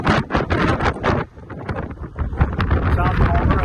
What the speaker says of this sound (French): Le vent est atroce.